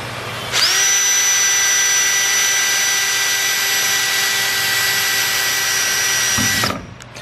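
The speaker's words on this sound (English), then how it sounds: "It sucks drilling holes into your brand new paint" A power drill boring holes through fresh paint into the body of a 240SX, one loud, steady high-pitched whine that starts abruptly, holds for about six seconds up close, then spins down and stops.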